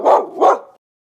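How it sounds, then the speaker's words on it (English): Two quick, loud dog barks from a farm animals video game, close and clear with no speech, followed by silence. "Dog."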